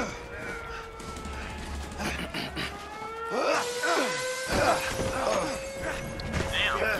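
Glass shattering inside a prison in the video game A Way Out, a crash of breaking shards amid game ambience, with a mixed, cluttered backdrop that includes an animal-like lowing tone; moderately loud and close.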